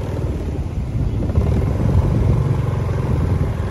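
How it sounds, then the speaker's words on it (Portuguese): A steady low rotor drone of a military police helicopter passing at a distance over a flooded town, continuous and fairly loud, with no talk. "E o helicóptero tá passando lá, ó."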